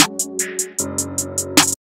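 Hi-hats shaped by an envelope in an FL Studio ambient beat, a steady run of short, crisp ticks over sustained low synth chords that change midway and stop abruptly.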